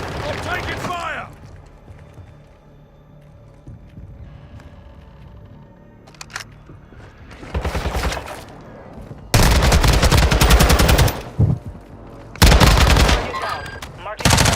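Video game firefight with loud bursts of automatic gunfire coming in heavy clusters, separated by quieter stretches of mechanical clicks and movement, with a voice speaking early on.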